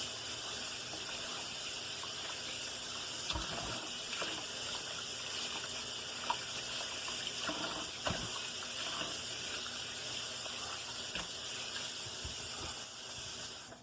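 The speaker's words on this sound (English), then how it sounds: "just rinse them off." Pinto beans are rinsed under running tap water, a steady loud hissing gush from the faucet with occasional splashes and clatters as the beans are moved, close and continuous.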